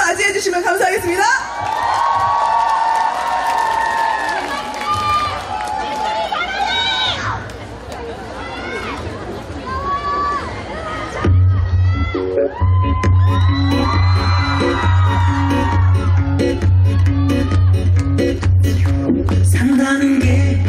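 A crowd at a Korean song festival in Yeongdong cheers, whoops and yells as a presenter speaks, and loud music with a steady beat starts partway through while the audience noise continues.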